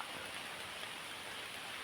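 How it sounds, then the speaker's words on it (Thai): Rain falling outdoors, a soft continuous hiss of dense drops with no distinct individual impacts, faint and steady throughout. "ฝนจะตกแน่นอนวันนี้ตกจริงๆ นะครับ"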